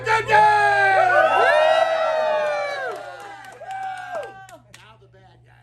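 A crowd at a Tombstone, Arizona gunfight show cheers, whoops and hollers loudly on cue, the voices swelling and then tapering off, with a voice shouting over the din.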